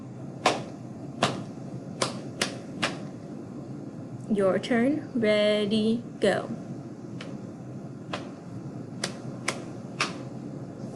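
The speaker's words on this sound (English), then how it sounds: "snapping, clapping, and then patting body percussion" Body percussion of finger snaps, claps and pats: sharp isolated cracks in a steady rhythm, with a short burst of talk in the middle, then the crisp hits resume alone at an even pace.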